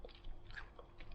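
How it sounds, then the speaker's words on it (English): A thin peanut butter cookie is bitten and chewed close to the mouth, giving soft crunching and wet mastication sounds in a few uneven bursts, with no talking. "I'm gonna stop chewing and talking with my mouth full. I'm gonna continue eating this cookie"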